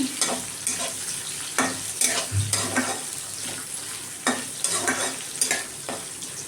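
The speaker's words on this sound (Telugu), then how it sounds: "తొందరగా మెత్తబడటానికి క్యాప్సికమ్ వేయించుకొని" Chopped capsicum frying in a pan, with a spatula scraping and stirring in repeated strokes over a soft sizzle, close and fairly quiet, no talk.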